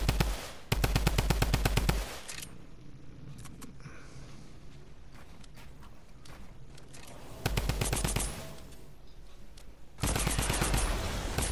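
Rapid automatic drum gun fire in a shooter video game, in three loud sustained bursts of evenly spaced shots separated by quieter stretches of ambient game sound.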